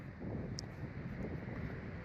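Wind blows steadily across the microphone in Benjakitti Park in central Bangkok, a dense, rushing roar that stays moderately loud for the whole clip.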